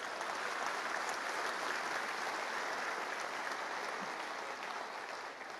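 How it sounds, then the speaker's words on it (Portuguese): Church congregation applauding at a Sunday service, a dense, steady wash of clapping that holds for several seconds and eases slightly toward the end. "dê uma forte salva de palmas para Jesus"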